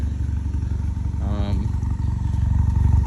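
A VW Mk6 Jetta's exhaust with muffler and resonator delete rumbles at close range in a deep, steady idle, with a brief revving flare at about the middle before settling back.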